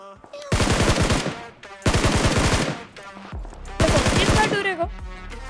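Video game gunfire: three loud, rapid automatic bursts, each about a second long, separated by brief pauses, up close and dominant.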